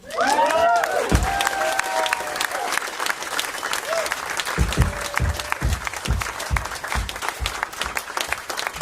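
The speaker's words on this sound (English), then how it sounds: "Y'all can clap now." At a live spoken-word performance in a radio studio in Baltimore, the audience breaks into loud, sustained applause, with whoops and whistles at the outset and heavy thumps later beneath the clapping.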